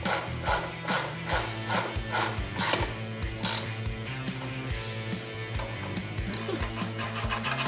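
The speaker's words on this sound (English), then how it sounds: "we're going to tighten this with a 12mm ratchet wrench." A 12mm ratchet wrench tightening a bolt on a Kawasaki jet ski jet pump, with rapid, repeated ratcheting clicks in short bursts, close up and fairly loud, over a steady low background hum.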